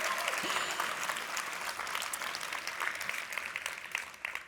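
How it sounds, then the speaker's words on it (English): A summit audience claps and cheers in a large room, a dense continuous wash of applause with scattered shouts, fairly distant and even, tapering slightly at the end. "let's cheer really loud for Code for America Marcom's team"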